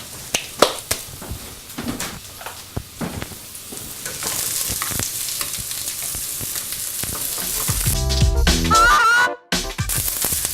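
Celery and mushrooms hit an oiled pan and sizzle steadily, a close, continuous frying hiss with light stirring clatter that grows louder toward the end.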